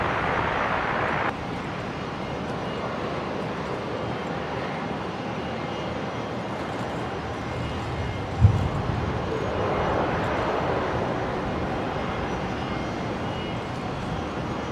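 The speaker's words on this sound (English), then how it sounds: "If we can focus on the 320 coming in from Launceston down in Tassie." A Jetstar Airbus A320 arriving from Launceston lands at Brisbane airport, its engine roar a broad, steady, distant rumble with a brief thump midway, lightly swelling toward the end.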